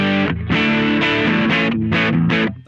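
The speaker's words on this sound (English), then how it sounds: "So we're gonna add in the actual rat style distortion now." Electric guitar played through a Rat-style distortion on a Kemper Stage, loud fuzzy chords struck in a choppy rhythm of short bursts with brief gaps, alone without talk.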